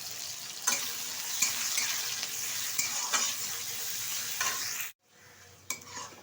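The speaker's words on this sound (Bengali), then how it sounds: "পেঁয়াজটা কিন্তু খুব ভালোভাবে ভেজে নেব, অনেকটা বেরেস্তার মতো।" Chopped onions frying in ghee for a mutton curry give a loud, steady sizzle up close, broken by scraping stirs, a brief drop near the end, then the hiss returning.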